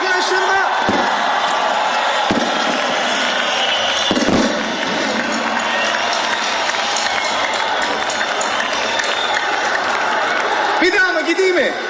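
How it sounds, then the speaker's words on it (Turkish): A concert crowd at a show in Azerbaijan claps and cheers for the musicians, a loud dense wash of applause and shouting that holds steady throughout, with voices mixed in. "Sevgili müzisyen arkadaşlarıma kocaman bir alkış."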